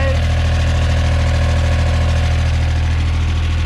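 A 2010 John Deere 1545 Series 2 four-wheel-drive diesel tractor idles close by with a loud, steady, low throbbing rumble and a slight knock, unbroken throughout.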